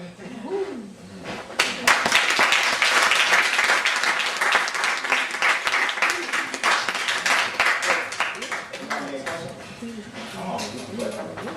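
Audience clapping for a poet at a community spoken-word gathering swells in after a short spoken lead-in, a fairly close crowd of hands with individual claps audible, and voices mixed in throughout.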